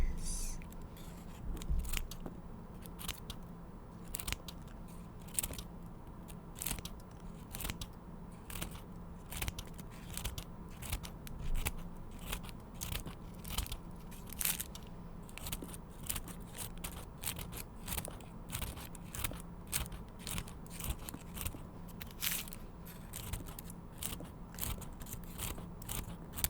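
Prop tentacles being torn and ripped apart up close in an ASMR mage healing roleplay, giving a steady run of soft crinkly snips and crunchy tearing bursts with no talking.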